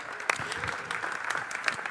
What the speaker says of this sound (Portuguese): Podemos dar um aplauso ao Senhor?